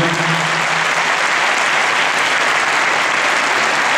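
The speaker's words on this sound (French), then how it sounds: "Je crois que vous pourriez l'applaudir très fort" At the Bordeaux show jumping arena in 2012, a large crowd claps for a rider's lap of honour, a dense, loud and steady applause that carries on unbroken from start to finish.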